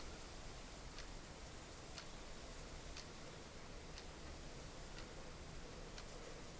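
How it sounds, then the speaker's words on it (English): Battery clock ticking faintly, one soft tick about every second under a steady hiss of background noise. "I don't know if you can hear it ticking, but you can see the hand moving slightly"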